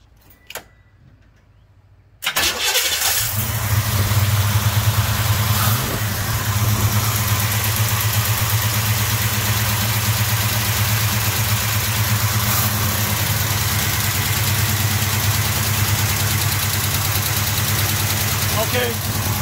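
A car with a major fuel leak idles steadily and close by after a brief quiet start, a continuous low engine hum running throughout with faint ticking, while people talk over it.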